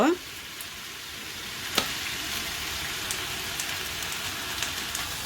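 Onions frying with beef in a pan make a continuous, rain-like sizzle at moderate volume, opened by a brief scrape and broken by an occasional faint tap of utensils.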